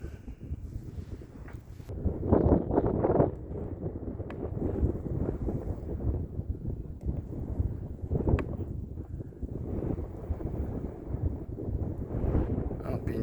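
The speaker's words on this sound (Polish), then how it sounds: "wiatr już mi tutaj daje się trochę we znaki, jak zwykle" Low rumbling wind buffets the microphone steadily throughout outdoors in Zgierz, Poland, with gusty surges and a speaking voice mixed into the blustery noise.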